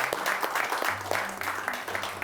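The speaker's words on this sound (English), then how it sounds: "Again, a round of applause for Dean." An audience applauds at a pitch competition's mentoring event, a steady patter of many hands clapping fairly close and moderately loud, continuous for a couple of seconds with no one talking over it.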